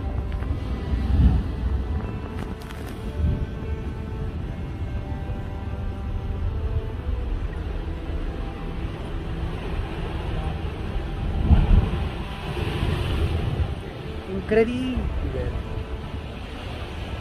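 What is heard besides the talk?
stormy sea waves and wind at Cefalù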